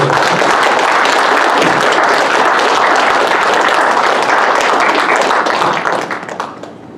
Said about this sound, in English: give a round of applause for Kerry